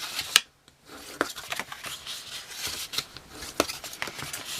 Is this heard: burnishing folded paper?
yes